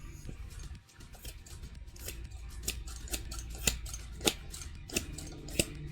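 Scissors snipping material very thin, a run of crisp close clicks that grow sharper and more regular toward the end, over a faint background hum.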